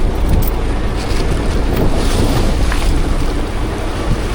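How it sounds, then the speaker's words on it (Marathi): Heavy sea waves surge and crash around a fishing boat out on the water during a storm while pomfret fishing, with loud rushing water and strong wind buffeting the microphone throughout. "लाटा बघ किती मोठमोठ्या येतात आहेत"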